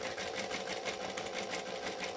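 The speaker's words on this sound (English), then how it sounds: "So we're going to stitch." A sewing machine stitching a foam-lined Colette bowler bag, running in a fast, even, continuous rattle of needle strokes up close with no talking.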